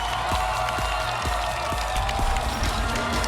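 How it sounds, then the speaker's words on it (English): A crowd at a CrossFit-style 2018 Pacific Regional fitness competition applauds and cheers athletes during a men's event, a steady wash of clapping and cheering with low thuds from the competition floor running underneath. "Crowd appreciating all these athletes."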